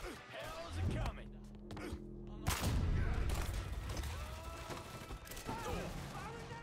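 Gunfire bursts in Mafia III, a dense fusillade of shots over game ambience and voices, with a loud sustained barrage starting partway through and continuing to the end.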